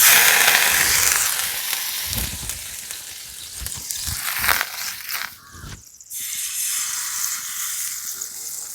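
Mung dal dosa batter meeting a hot tawa brushed with a little oil, giving a loud, steady sizzle and hiss with scraping bursts as the batter is spread in circles, then a brief dip before the frying hiss resumes.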